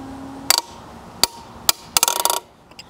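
Sharp metallic clicks and ratcheting snaps from a wrench loosening tight bolts while frame sliders are fitted to a motorcycle: three separate cracks, then a quick burst of ratchet clicks, close and loud.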